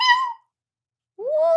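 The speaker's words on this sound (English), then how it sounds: "No, dog." A dog whines twice in the background, with two short, high, drawn-out cries separated by about a second of silence, each fairly clear and unaccompanied by talk.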